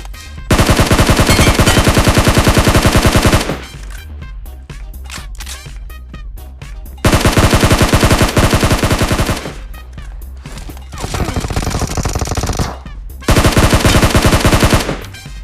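Gunfire in BGMI comes in long, loud, rapid automatic bursts with quieter gaps and scattered single shots between them, close and dense, with no talk.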